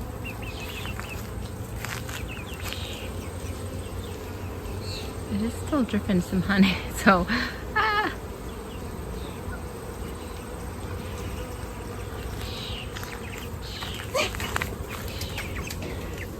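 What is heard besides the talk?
honey bees buzzing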